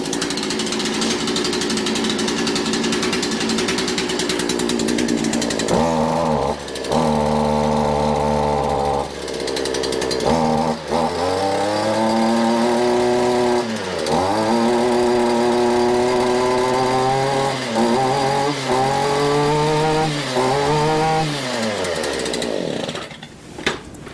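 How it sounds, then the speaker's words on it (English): Cold gas string trimmer engine running close and loud, its pitch surging and sagging repeatedly as it bogs and revs through uneven bursts, with drops to a rough idle between. "If you don't let them warm up, they're going to bog, which is what you saw."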